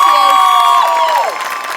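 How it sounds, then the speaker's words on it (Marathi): Studio audience at a Marathi comedy show breaks into loud, sustained applause and cheering close by, with a bright held tone running above it and the crowd noise easing slightly toward the end. "तर एकदा सुलभाताईंसाठी टाळ्या."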